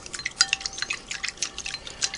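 Krud Kutter cleaner is stirred into a container of water, producing a quick run of small splashy clicks and liquid ticks at close range, irregular but nearly continuous, with no talking.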